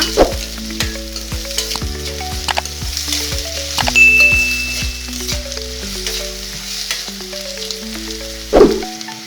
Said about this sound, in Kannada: ಈರುಳ್ಳಿನ ಚೆನ್ನಾಗಿ ಫ್ರೈ ಮಾಡೋಣ